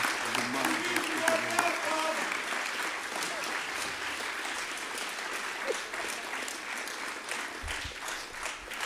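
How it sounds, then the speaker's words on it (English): An audience at a Birmingham town hall breaks into sustained applause, a steady wash of many hands clapping at fairly close range that carries on for several seconds, with a few voices audible within it. "Y'all give him a round of applause."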